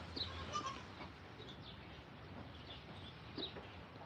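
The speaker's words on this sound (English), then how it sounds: "this is Billy Goat noises" Faint, distant billy goat bleats come through a noisy outdoor background, a few short calls scattered across the stretch.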